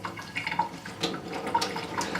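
Running water at a bathroom sink as a makeup brush is dampened under the tap, a steady close splashing stream with a few brief drips and clinks, no voices.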